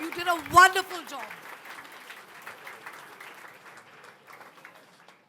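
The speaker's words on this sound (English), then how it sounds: "Yes, please clap for yourself, and you did a wonderful job." Students at a school annual day applaud themselves after their performance, light clapping that starts under a brief voice and fades steadily to quiet scattered claps.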